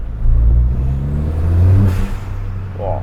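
A Ford Fiesta ST with a Milltek exhaust revs loudly and close, a deep droning engine note that swells and holds before easing off, heard from the driver's seat at night with the window down.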